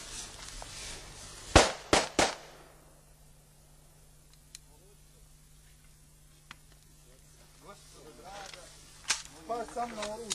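A few sharp gunshot cracks ring out in quick succession early on, then sparse faint pops follow over a quiet background, with a voice speaking later.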